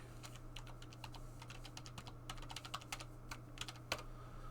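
Quiet, rapid clicking of fingers typing on a laptop keyboard, irregular keystrokes in quick bursts over a low steady hum, no voices.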